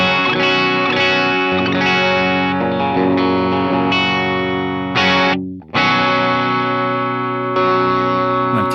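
Electric guitar playing a clean tone through a pedal platform, sustained chords ringing loud and close with a short break near the middle.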